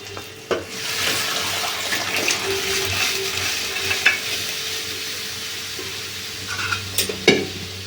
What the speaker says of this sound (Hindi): मैंने छौंका लगा दिया है इसमें